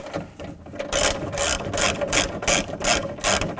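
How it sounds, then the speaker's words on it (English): A ratchet clicks steadily in fast repeated strokes while a 10mm bolt comes out of a 2000-2006 Chevy Tahoe rear window regulator, close and loud with no voices. "Then take this bolt out."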